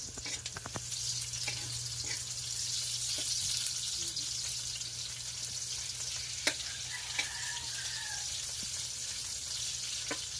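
Chopped onions sizzle steadily in a hot frying pan for spaghetti sauce, a continuous close frying hiss with a few light clinks and stirring scrapes and no talking.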